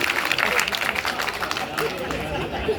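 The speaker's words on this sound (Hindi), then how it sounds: "एक बार जोरदार ताली हमारे बेरोजगार भाई के लिए।" Audience at a poetry gathering clapping loudly for an unemployed man, a steady wash of applause mixed with crowd chatter and talk.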